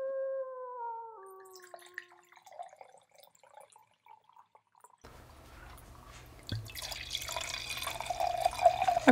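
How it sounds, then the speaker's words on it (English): Wine is poured into a glass as a soft, splashy trickle of liquid that builds gradually. It comes after a quiet opening of faint tonal sweeps and scattered small sounds. "Okay, you can stop pouring."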